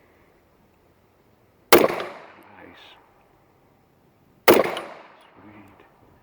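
Two sharp, loud gunshots from a Rock Island Armory enhanced 1911 pistol in 9mm, spaced about three seconds apart, each with a short decaying echo, and a brief spoken remark between them.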